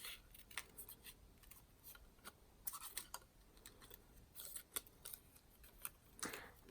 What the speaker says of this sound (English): Cut this one out first, and then we'll cut the Christmas out right after.